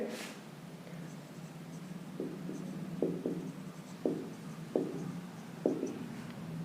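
Chalk or marker strokes while a maths formula is written by hand, a series of short scratchy taps roughly every second, close and moderately loud over a quiet room hum.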